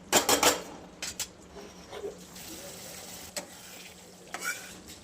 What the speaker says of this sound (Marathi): आणि असाच मसाला परतून घ्यायचा